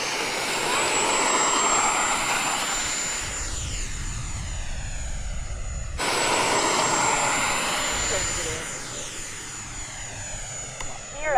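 A Blue Angel jet roars past, engine noise swelling and falling in a broad steady rush with a high whine on top, while a voice talks over it.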